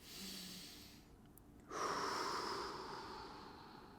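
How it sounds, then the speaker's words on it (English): A deep inhale during a lower-body stretching class comes as two breaths, a softer one first, then a louder, longer airy intake that fades slowly, close and alone with no talking. "Inhale."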